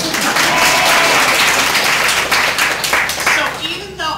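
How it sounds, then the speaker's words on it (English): Loud audience clapping rolls through a graduation ceremony hall, dense and steady at first before thinning out into scattered claps near the end, with voices murmuring underneath. "So, clap for Rob."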